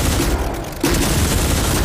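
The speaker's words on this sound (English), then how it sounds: "That's machine gun and cannon." Warbird machine guns and cannons fire together in a combat flight game, a dense, continuous loud barrage of rapid shots with a brief dip partway through before the volley resumes.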